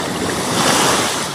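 Strong ocean waves crash and roll onto a beach in one loud, continuous broadband surge with wind rumble, close and without voices.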